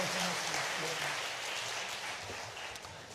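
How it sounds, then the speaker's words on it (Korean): A church congregation at a Sunday worship service gives a short burst of quiet, distant-sounding applause, with a voice speaking over the clapping. "박수 한번 해요"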